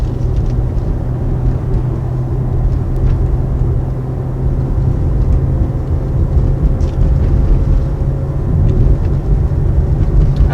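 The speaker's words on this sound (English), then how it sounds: "it is a really deep, throaty sound" A 2020 BMW X3 M, a 500-horsepower SUV, drives with a steady, deep engine and exhaust drone that runs unbroken throughout, close and fairly loud, with no talking.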